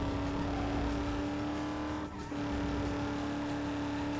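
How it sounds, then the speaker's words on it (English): A racing car in the video game Need for Speed Underground 2 gives off a steady, high, tonal transmission whine over engine drone, holding constant apart from a brief dip in the middle. "I do really like the sound of that transmission whine."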